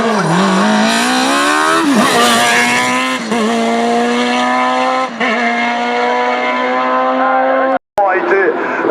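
A race car climbs the course at the Vuillafans hill climb, a French championship event. The engine screams loudly and rises through repeated gear changes, with a brief cut near the end, under excited commentary.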